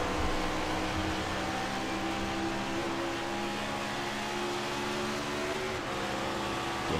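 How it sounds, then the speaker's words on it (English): Race cars on a superspeedway at Nashville, engines droning steadily at a distance with rising and falling tones as they shift and downshift, a continuous mechanical roar with no voices. "You hear the cars going through the gears,"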